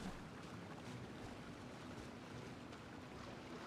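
A steady, broad rush of falling water roars at moderate distance in the video game Genshin Impact, constant and unbroken throughout with no voices.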